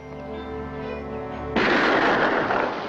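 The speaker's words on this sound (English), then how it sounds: "Try squeezing the trigger, not pulling it. Ride with the kick, Jeff." A single loud gunshot from a handgun in a 1957 western film cracks out abruptly midway, following a sustained musical tone and leaving a short echoing tail.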